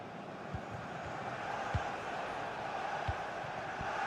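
Stadium crowd noise from a cyber football video game match, a steady loud roar of many voices filling the whole clip, with a few brief low thumps poking through.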